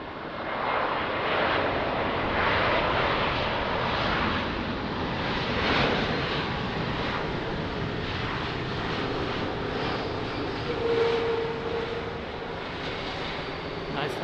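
A passenger airliner landing on a rain-soaked runway at Lisbon Airport makes a broad, steady roar that sweeps up around the sixth second and holds with a brief tonal whine near the end, with a voice talking over it.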